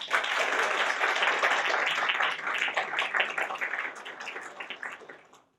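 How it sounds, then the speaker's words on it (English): Sustained audience applause at a college student government awards ceremony, dense and steady clapping from a large crowd that gradually thins and fades out toward the end. "Let's give them a hand of applause."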